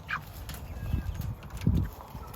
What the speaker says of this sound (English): Birds are doing pretty good.